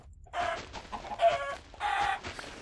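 Chicken clucking in Minecraft, with three short bursts of clucks spaced across a quiet stretch, close and clear with no talking.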